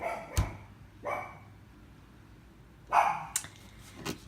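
A dog barks in a quiet room, a few separate sharp barks spaced unevenly, moderately close and loud against a low background.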